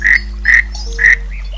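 Frogs croak three times in loud, regular bursts over a steady low hum, a sound effect set by a riverbank in a Hindi folk tale. No voices are heard.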